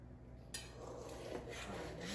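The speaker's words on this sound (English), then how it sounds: "Let's go ahead and cut into our lamb" A knife rasps through a roasted leg of lamb, a quiet scraping and rubbing sawing stroke that grows slightly louder over a couple of seconds, close and alone.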